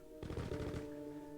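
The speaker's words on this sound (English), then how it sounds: "You can hear gunfire behind you." A burst of rapid automatic gunfire rattles out in a short, dense volley, followed by a lingering ringing hum as the shots fade.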